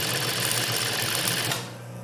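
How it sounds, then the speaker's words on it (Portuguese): A sewing machine topstitching fabric belt loops, a fast steady mechanical whir of the needle running close and loud for about a second and a half before it stops. "Então eu venho aqui pespontando de volta"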